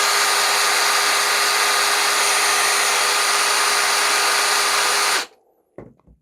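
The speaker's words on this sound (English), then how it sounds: "We all own a drill or a battery power drill" A cordless battery power drill whines loudly and steadily for about five seconds, then cuts off abruptly, leaving near silence with a couple of faint clicks.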